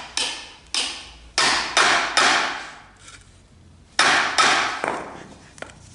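Sharp hammer blows strike a rusted universal joint in a vehicle driveline, landing in irregular bursts of two or three with short ringing decays, close and loud, with no talking.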